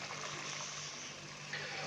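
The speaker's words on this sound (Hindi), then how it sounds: "तो अभी मैं इसकी अच्छे से भुनाई कर लूँ 5 से 7 मिनट" Goat tripe (ojhri) curry frying in oil in a pan, a soft, steady sizzling hiss that stays even and fairly faint over a short stretch, with no talking.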